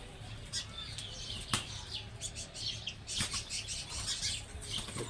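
Chirps and wing flutters from birds and their chicks nesting inside a clay pot, soft and close, with brief rustling bursts over a low steady background hum.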